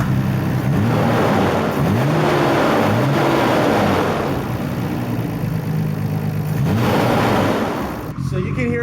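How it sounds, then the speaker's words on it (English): A Nissan Skyline R32 GT-R with an aftermarket exhaust and a silencer fitted starts and revs loudly, the pitch rising and falling in repeated swells, with talk running over the engine throughout. "So you can hear that nice aftermarket exhaust."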